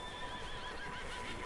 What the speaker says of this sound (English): There's a horse in there, I hear.